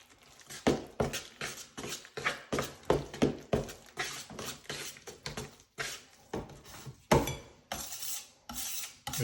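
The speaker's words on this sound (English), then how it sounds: "Make sure you always scrape the sides of the pan all the way around." Setting-type joint compound is mixed in a pan, a tool scraping around the sides in a steady run of rhythmic rasping strokes, close and fairly loud with short pauses between passes.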